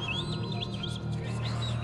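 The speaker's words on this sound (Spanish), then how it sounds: "A la mañana siguiente se podían escuchar los jilgueros." Goldfinches singing as a storytelling sound effect, quick bright chirps and warbling phrases over a steady low hum, faint and continuous with no talk.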